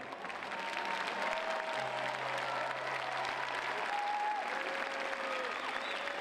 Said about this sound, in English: Je vous demande d'applaudir l'équipe de France,